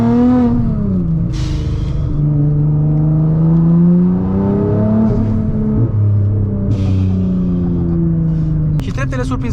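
A 750-horsepower Nissan GT-R engine revs loudly as the car accelerates, its pitch climbing and dropping through several gear changes and ending in a brief crackle, with someone talking over the engine.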